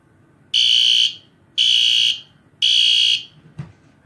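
A P2R fire alarm horn running on 3 volts blares in three loud, evenly spaced bursts of about half a second each, followed by a brief thump.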